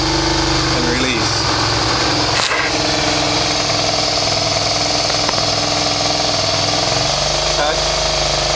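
A Suzuki SV650 motorcycle engine runs steadily close by, its pitch rising and falling briefly as it is revved with the clutch worked, loud and continuous throughout.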